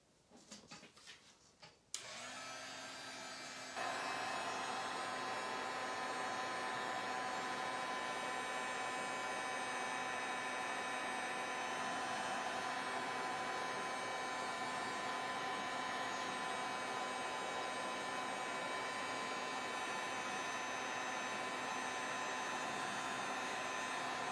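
A hair dryer blows steadily to dry paint on a mixed media Christmas canvas, starting after a brief rustle and then running as a constant loud whir with a mains hum for over twenty seconds, no voices.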